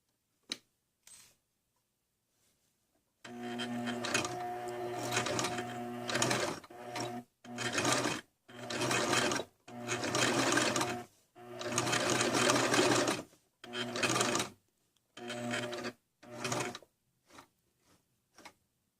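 Sewing machine stitching a hem on a t-shirt, running in repeated bursts of a few seconds each separated by short pauses, close and steady with a whirring mechanical hum and no talk.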